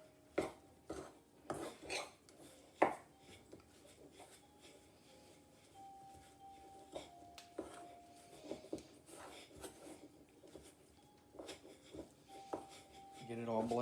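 Peanut butter cookie dough being mixed in a bowl, heard as close scraping and clinking of a utensil against the dish in irregular strokes, with a few sharper knocks and a voice talking throughout.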